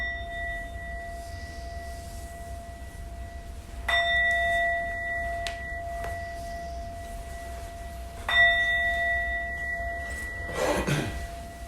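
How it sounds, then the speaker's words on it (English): A meditation bell struck to close a guided mindfulness session: two clear metallic strikes several seconds apart, each ringing out with a long sustained tone in a quiet room, followed by a brief rustle. "And I'll ring the bell to end the meditation."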